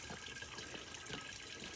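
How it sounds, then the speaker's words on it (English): Spring water pours steadily into water jugs on a hike at Pine Knob, a soft, continuous splashing trickle heard alone at low volume. "Filling up some water jugs"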